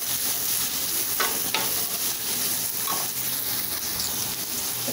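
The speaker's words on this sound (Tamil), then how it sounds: "கேரட் பீன்ஸ்லாம் ரொம்ப வதங்க வேண்டாங்க, ஒரு அளவுக்கு வதக்கினா போதும்." Carrots and beans sautéing in a pan for vegetable fried rice, a steady close sizzle with a few scraping stirs of the spatula, no voices.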